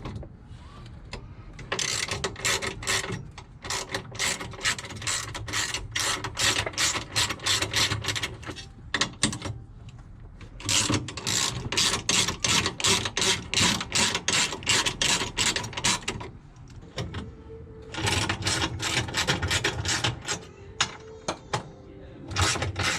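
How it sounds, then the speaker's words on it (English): A hand ratchet clicks in fast repeated bursts while loosening the 14mm nut and bolt on a suspension end link of an 86 track car, loud and close, with short pauses between strokes. "Then I'm gonna work on removing the end link, which has a 14mm nut and bolt."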